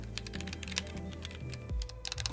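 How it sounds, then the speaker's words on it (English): Fast continuous typing on a Roccat Vulcan TKL Pro keyboard with linear switches, a dense stream of close key clacks over a steady electronic hum, with no voices. "Man, I have a hard time typing on linear switches, I really do."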